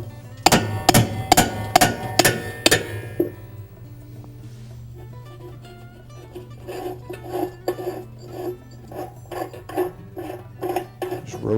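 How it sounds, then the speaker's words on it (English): A spanner wrench on a Whirlpool washing machine tub nut takes a series of sharp metallic raps, about six loud ringing hits in quick succession, followed by a quieter run of rhythmic clinking as the nut turns. "Just give it a couple sharp raps."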